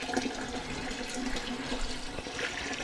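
Tap water running steadily as it fills a big stock pot with about two gallons for homemade chicken broth, a close, continuous splashing rush with no talking.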